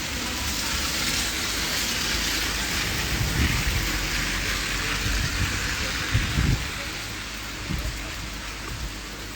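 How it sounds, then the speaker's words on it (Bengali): Steady rain falls with gusty wind in Brahmanbaria, Bangladesh, as a thunderstorm approaches: a constant broadband hiss with low rumbling gusts swelling now and then, close and fairly loud throughout. "বৃষ্টি খুব জোরেশ্বর না হলেও গুটি গুটি পড়ছে ক্রমে কিন্তু বৃষ্টির তীব্রতা বাড়ছে সাথে দমকা হাওয়া রয়েছে"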